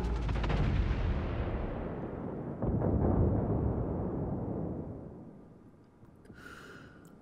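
Heavy naval gunfire from cruisers in World of Warships, including a French Richelieu, opens with a loud deep boom whose rumble slowly decays, followed by a second blast and a fading roar, with no talk.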